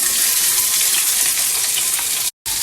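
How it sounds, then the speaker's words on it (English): Steady, loud sizzling of food frying in a hot pan, with a brief cut near the end. "The reason I'm sauteing the vegetables is you take out the water from the vegetables."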